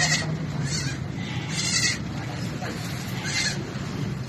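A goat bleats several times in short wavering cries, fairly close, over a steady background hum of an outdoor setting after a difficult birth.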